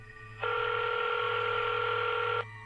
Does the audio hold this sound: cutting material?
no